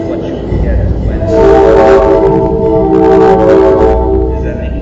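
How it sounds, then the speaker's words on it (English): A passing train rumbles loudly and steadily, with a strong low roar and harmonic horn-like tones swelling in the middle, heard from indoors during a school board meeting. "That was a train going by"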